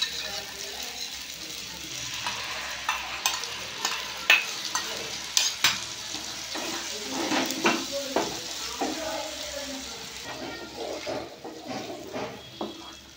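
Chana masala with yogurt stirred in a hot pan: a steady sizzle with irregular spoon scrapes and clacks against the metal, close and moderately loud, with no voices.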